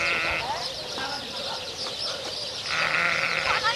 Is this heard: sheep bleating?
yes